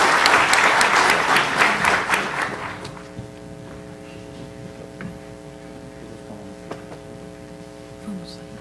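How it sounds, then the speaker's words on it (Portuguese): A lecture audience applauds together for about three seconds, dense clapping that quickly fades out, leaving a steady electrical mains hum and a few faint shuffles and footsteps in the room. "pediria a todos uma salva de palmas para o nosso palestrante"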